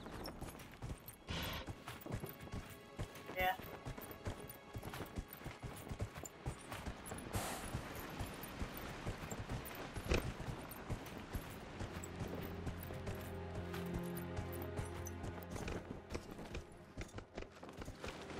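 Horse hooves clip-clopping in Dragon Age Inquisition, a quiet continuous run of hoofbeats with faint mechanical clatter over about eighteen seconds and no speech.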